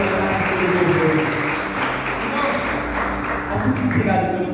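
A church congregation clapping and cheering for the Lord, a thick, steady wash of crowd noise with voices mixed in, holding at an even level before easing slightly at the end.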